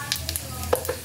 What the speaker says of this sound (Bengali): ফোড়নগুলোকে কয়েক সেকেন্ড একটু নাড়াচাড়া করে নেব।